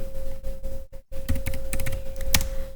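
Rapid keystrokes on a computer keyboard as an IP address is entered, a steady run of close, crisp clicks with a brief pause near the start and a constant electrical hum beneath.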